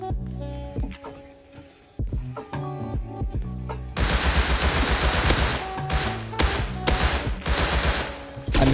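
Gunfire in the game Rust: rapid automatic bursts and single shots, loud and close, broken into spaced rhythmic volleys at first, then a dense continuous stretch of firing.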